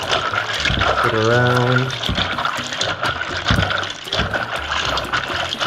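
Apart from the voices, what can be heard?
hands washed under running tap water while cooking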